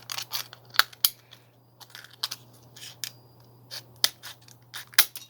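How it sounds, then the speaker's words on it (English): Scissors snip excess plastic from a Kenner Micro toy blister form, irregular sharp close cuts and crinkly plastic crunches spaced over a few seconds, set against a faint steady hum with no talking. "So if we trim off all this plastic that we don't need,"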